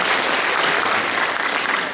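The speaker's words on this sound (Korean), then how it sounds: "우리 자녀들을 위해서, 청년들, 청소년들을 위해서 또 축복의 박수 하겠습니다" A church congregation at a Thanksgiving service claps for its children and youth, a dense, loud, steady round of applause filling the room throughout.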